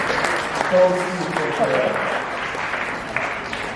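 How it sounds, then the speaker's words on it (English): Applause from the crowd at a Mamelodi Sundowns club event, a steady wash of clapping that holds at an even level, with a voice talking over it. "Give them a round of applause."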